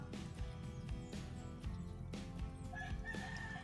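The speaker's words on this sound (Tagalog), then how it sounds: "Ayun, may manok pa." A rooster crows faintly amid outdoor background noise and clattering in the Philippines at night, with short repeated calls and bursts of activity throughout.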